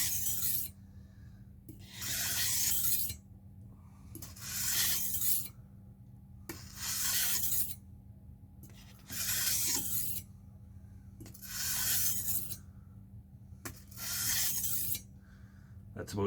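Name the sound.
knife being sharpened on a 1000 grit whetstone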